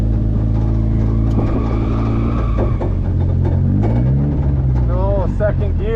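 Race car with a broken axle still driving, its engine a loud close rumble with a shifting pitch, under the driver's voice.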